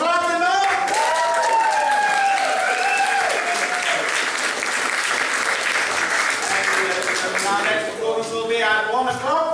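An audience at a WW1 concert party performance claps in sustained applause, with someone talking over the clapping throughout.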